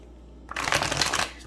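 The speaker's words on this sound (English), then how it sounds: "All right, one more shuffle for you." Tarot cards being shuffled, a brief burst of riffling and rustling that starts abruptly after a near-silent moment, close and moderately loud, with no talking.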